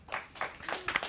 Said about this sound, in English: we got a round of studio applause